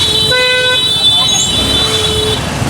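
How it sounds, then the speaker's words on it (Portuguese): Car and truck horns honk repeatedly amid busy motorbike and car traffic on a road outside central Ho Chi Minh City, Vietnam, with several overlapping tones near and far over a constant roadway rumble. "A buzinaiada."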